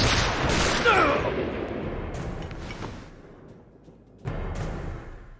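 A gunshot goes off in the Assassin's Creed Ezio trilogy video game, a sharp loud crack at the start whose rumble and echo decay over a few seconds, followed by a second burst of noise near the end.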